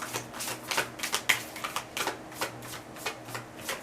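Moonology oracle cards are shuffled in quick, crisp riffles and flutters, a close rhythmic run of papery bursts with no talking.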